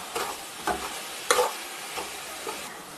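Mussels stirred into a masala in a frying pan for kallummakkaya thoran: a quiet sizzle broken by about six sharp scraping strokes of a spoon, close and steady, with no voices.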